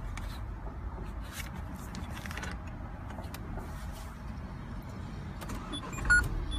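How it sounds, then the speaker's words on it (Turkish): A Renault Talisman engine starts and rumbles steadily up close, a low continuous drone with a short louder surge near the end. "arabayı çalıştırdık şu anda"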